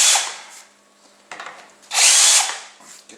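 Two bursts of a high-pitched power tool deburring a metal part for a welding fabrication table, the second burst louder and longer, with quiet gaps between.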